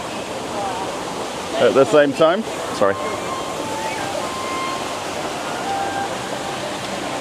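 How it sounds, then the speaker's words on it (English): A waterfall sprays cold water at an outdoor festival, a steady rushing hiss throughout, with a brief burst of nearby talk partway through. "The waterfall's just spraying off some cold water"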